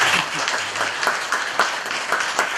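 Audience clapping at a lecture, brief and moderately loud with uneven individual claps.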